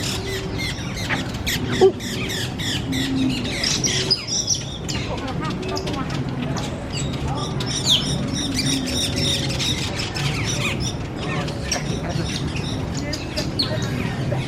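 Birds chirp and squawk throughout a walk-through aviary at Animal Kingdom on a rainy day, a dense, continuous chorus of small calls with occasional louder cries, heard under people talking nearby.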